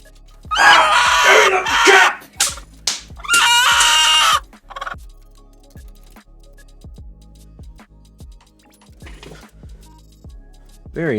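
Several chickens squawk and cluck loudly in bursts, with sharp screechy calls and quieter clucking between them, close by.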